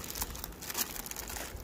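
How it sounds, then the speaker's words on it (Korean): Plastic wrap on a beekeeping pollen patty being torn open by hand in a hive: a brief, quiet burst of crinkling and tearing plastic with no voices. "이제는 남은 화분떡은 이렇게 째서"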